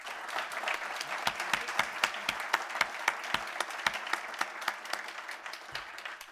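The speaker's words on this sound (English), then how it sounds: "I'd ask the audience to join me in a round of applause for the panel." An audience applauds a panel, a crisp patter of many claps with a few sharper, louder ones standing out, fairly close and steady.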